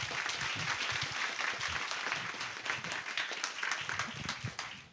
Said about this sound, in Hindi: तालियों में कंजूसी नहीं करे, करताल ध्वनि के साथ में।